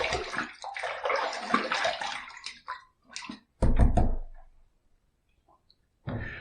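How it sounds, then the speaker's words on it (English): Tap water runs and splashes as a shaving razor is rinsed, steady for a few seconds, then breaking into short bursts with quiet gaps between them. "Let's rinse, let's see where we're at."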